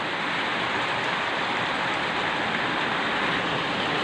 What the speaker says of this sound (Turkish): Öyle böyle yağmur yağmıyor şu an.